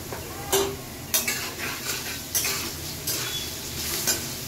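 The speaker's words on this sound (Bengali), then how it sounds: "আলুটা দেখো মোটামুটি ভাজা হয়ে গেছে" Potatoes stirred in a frying pan with a spatula, several scraping strokes at an irregular rhythm over a soft, steady sizzle.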